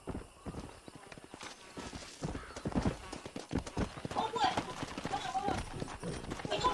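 Horse hooves clip-clopping in Red Dead Redemption, a steady rhythmic trot on the ground close by, with a neigh among the footfalls and someone talking over much of it.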